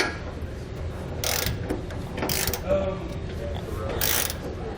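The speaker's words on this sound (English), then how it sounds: "using a torque wrench, we can torque all of our hardware down to the proper specification" Ratcheting torque wrench tightening the hardware of a CURT MV weight distribution hitch on a 2018 GMC Sierra 1500, three short bursts of clicking over a steady low background, close and without talk.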